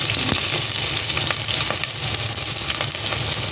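Chili hits a hot pan for ginataang salmon, giving a loud, dense, continuous sizzle with faint scrapes of stirring on top, close up.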